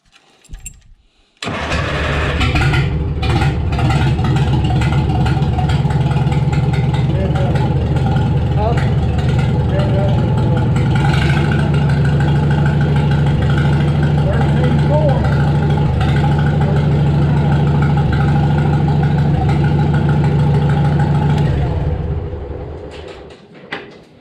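A small magneto-ignition engine, newly fitted with an ignition switch and relay, cranks briefly with the choke on and then catches, running loud and steady at idle for about twenty seconds before cutting off; voices talk over it.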